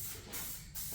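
Spray paint hissing onto a GMC Sierra 1500 hood scoop in light khaki, in short bursts of steady hiss broken by brief pauses, close and fairly quiet.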